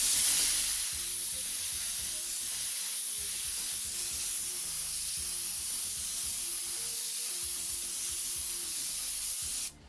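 An airbrush sprays paint in a steady, airy hiss laid down in wide passes along the edges, with a few brief pauses and a low mechanical hum running underneath, close and fairly quiet.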